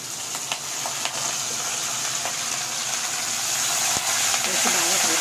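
Dried red chilies and curry leaves fry in hot oil for tomato pachadi, a continuous close sizzle with crackles and light stirring that builds slightly louder toward the end.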